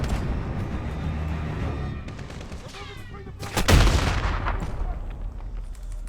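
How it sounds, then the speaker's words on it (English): Suppressive machine-gun fire in Modern Warfare (2019), loud game gunfire with a heavy burst of shots near the middle over rumbling battle noise, and a meow-like cry earlier. "Get the suppressive fire on that MG!"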